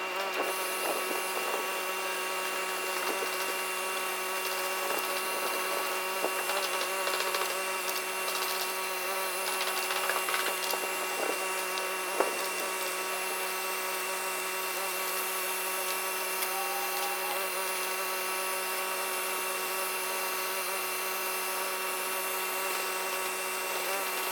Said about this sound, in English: If you're using the heat gun correctly, there should be no residue left over.